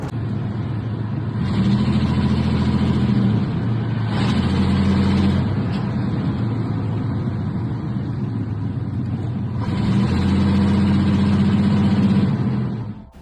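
An old Chevrolet S10 pickup truck driving along: a steady, fairly loud engine drone with road rumble, rising slightly in stretches, heard alone without voices.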